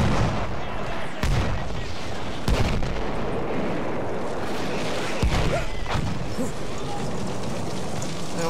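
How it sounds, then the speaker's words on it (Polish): Artillery fire in the World War I shooter Battlefield 1 during a front-line defence: sharp blasts land at about 1.2, 2.5 and 5.2 seconds over a dense rumble of battle and gunfire, loud and continuous, with no one speaking. "Artyleria już?"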